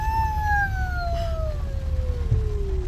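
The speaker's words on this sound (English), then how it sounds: "Ambulance." Ambulance siren in rainy Chicago traffic, one long loud wail sweeping steadily downward in pitch over a constant low road rumble, as if the vehicle passes close by.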